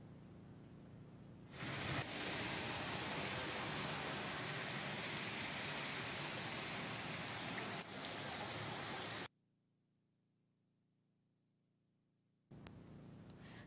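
Heavy rain from a cyclone pours down in a steady, loud broadband hiss for several seconds, then cuts to near silence before the downpour resumes briefly.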